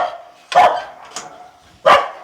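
A dog at a shelter for stray dogs and cats barks three times nearby, loud sharp barks with a weaker one in the middle and short quiet gaps between them.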